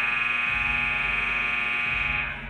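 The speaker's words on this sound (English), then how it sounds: "Once the buzzer's done." A basketball arena buzzer at a women's college game between NMJC and Clarendon blares as one loud, steady electronic tone, held unbroken for about two seconds before cutting off, with no voices over it.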